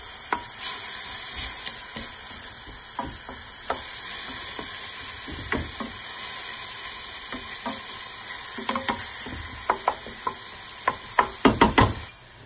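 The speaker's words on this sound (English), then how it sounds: "Now we're adding the fresh garlic." Fresh garlic fries in a pan with a steady hiss and crackle, while a utensil stirs and knocks against the pan in scattered clicks that grow busier toward the end, close and alone.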